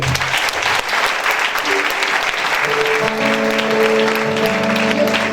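A church congregation applauds, with dense clapping throughout that continues while sustained tones, likely from a keyboard or organ, enter partway through and swell underneath.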